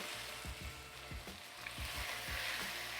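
Steak searing in a hot pan just after being flipped, a steady crackling sizzle running throughout with a few soft low thumps and scrapes, close and moderately loud, no talking.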